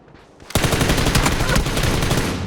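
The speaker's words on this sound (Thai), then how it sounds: "นู่นไกลๆยิงกันอยู่" Gunfire in the shooter game PUBG: a sudden loud burst of rapid automatic shots rattling on steadily for about two seconds, with no talking.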